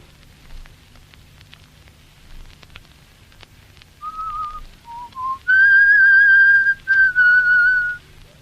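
A man whistles a short tune alone in a quiet room, starting with a few soft, tentative notes and then moving into louder, sustained whistled phrases with a brief pause between them.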